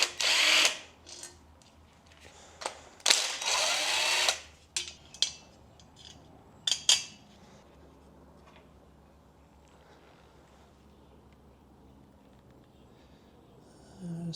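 Tools working on the oil pan of a Foxbody Mustang 5.0 engine, with a loud close burst of rapid ratcheting and mechanical clatter early on, several sharp metallic clanks, then fading to quiet shop background.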